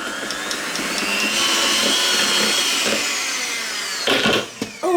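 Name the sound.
electric mixer beating cream cheese frosting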